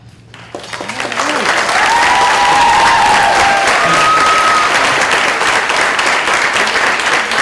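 An audience at a seniors' talent show applauds after a singing performance, building quickly from quiet into full sustained clapping and some cheering, with faint voices under it.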